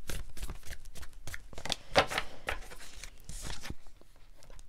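Oracle cards being shuffled by hand, a close, continuous papery riffling and sliding with quick scraping bursts throughout.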